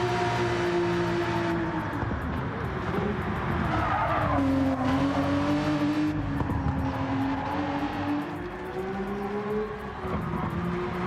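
Race car on slick racing tyres in the video game Gran Turismo 7: a loud, sustained engine drone that rises and falls through the revs, with squealing tyres as it corners, and no talking.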